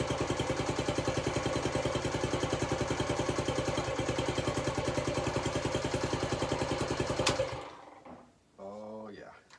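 Restored Honda CT90 motorcycle engine idling with a steady, even putter for most of the clip, then cutting out before someone speaks briefly.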